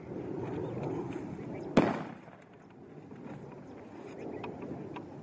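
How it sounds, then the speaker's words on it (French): A single sharp firecracker bang goes off once near elephants, cutting through a low outdoor rumble, then the ambient noise carries on. "faire exploser des pétards pour les effrayer"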